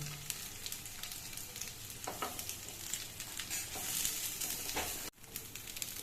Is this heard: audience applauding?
no